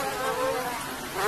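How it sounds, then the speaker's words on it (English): A dense swarm of mass-produced genetically modified mosquitoes buzzes inside breeding cages, a continuous close whining hum with shifting overlapping pitches, no voices. "we have the mass-produced mosquitoes getting ready to give us the eggs"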